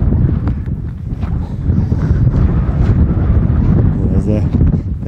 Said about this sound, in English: As that wind is picking up. The gale is coming.